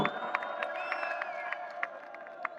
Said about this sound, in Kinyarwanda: muyikomera amashyi menshi cyane sibyo